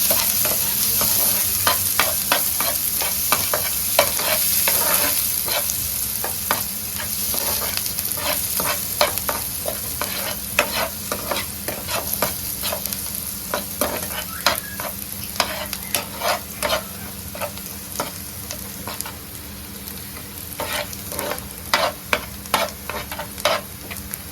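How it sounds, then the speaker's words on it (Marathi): Onions sautéing in hot oil in a home kitchen, a steady close sizzle broken by frequent sharp scrapes and taps of a spoon stirring against the pan, with no talk throughout. "तेल तापला काय टाकूचा कांदो कांद्यावरती परतून"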